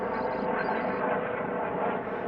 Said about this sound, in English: we got a low-flying helicopter coming by here